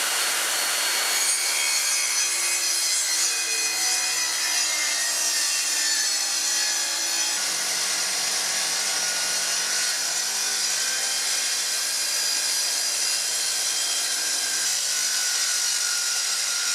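A power saw cuts through the ends of an MDF board, a loud continuous buzzing rasp that holds steady throughout.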